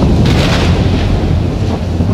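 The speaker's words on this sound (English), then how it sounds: "a fierce storm came up" A fierce animated storm over a lake roars as a loud, steady wash of wind and rumbling thunder noise, filling the whole moment without voices.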